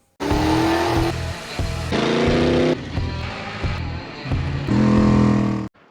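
A Nissan diesel engine swapped into an Oliver OC-3 crawler tractor roars in several separate bursts of revving, loud and close, each rising and settling before cutting to the next, with no talk.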